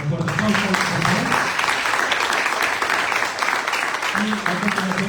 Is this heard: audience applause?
yes